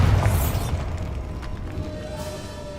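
A Bombarda spell explosion in Hogwarts Legacy bursts with a heavy low boom at the start, its rumble decaying over a couple of seconds with faint debris and mechanical rattling.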